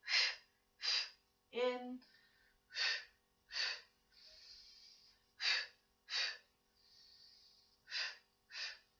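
Sharp, rhythmic breaths are drawn and pushed out in pairs during a Pilates exercise, close and clear, with a brief burst of spoken instruction among them.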